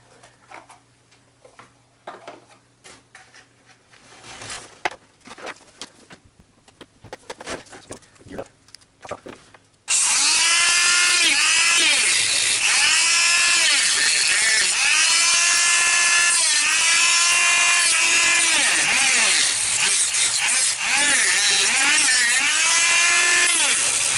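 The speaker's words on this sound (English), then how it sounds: "I was bracing that, that Dremel with two hands" A Dremel rotary tool fitted with a large reinforced cutoff wheel cuts during a handheld build; faint handling noises come first, then a loud, steady, high whine starts abruptly and wavers in pitch as the wheel bites.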